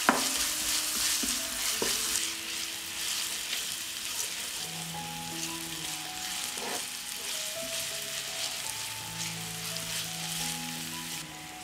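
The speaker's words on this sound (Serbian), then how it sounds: "Dodat ću i beli luk i pržiti sve zajedno." Onion and garlic fry together in a pan with a loud, steady sizzle up close, with an early utensil knock and a few tonal scrapes while they are stirred.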